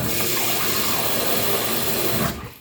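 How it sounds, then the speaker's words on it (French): Water running loudly from a kitchen faucet into a container for cleaning the microwave with vinegar, a steady close gush that stops abruptly at the end. "je vais déjà commencer par mettre l'eau"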